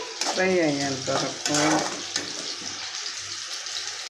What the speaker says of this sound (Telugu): మష్రూమ్ కూడా బాగా మిక్స్ చేయాలి.